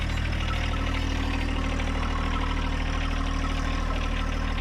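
A John Deere diesel engine idles steadily at close range, a constant low rumble with a clear harmonic drone and no breaks or voices.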